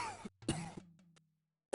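A game character hacks out a couple of short, close, dry coughs in Gabriel Knight: Sins of the Fathers, followed by a brief pause and another faint throat sound.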